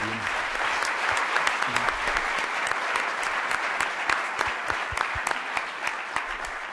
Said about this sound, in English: how about a round of applause for His Excellency